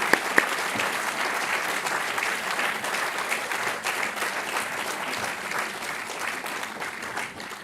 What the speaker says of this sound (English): a big applause from all the audience